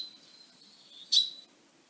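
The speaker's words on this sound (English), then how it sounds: "This is the typical song, the typical pinking call," A wild bird gives a thin, high, sustained whistle followed by one brighter, louder pink note, clear and alone in a quiet outdoor setting.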